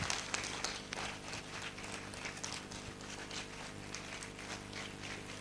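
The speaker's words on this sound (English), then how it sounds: "Let's keep clapping, please." Audience clapping during a standing ovation at a live talk show event, a steady dense patter of many hands, continuous and moderately loud over a low hum.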